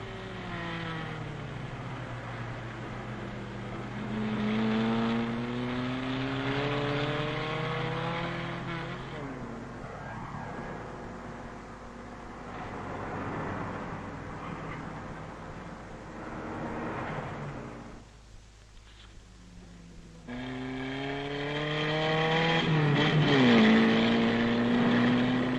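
Simca Ariane car being driven through a bend, engine note rising and falling in pitch as it revs and shifts, with a brief lull before the engine picks up again, fairly loud throughout.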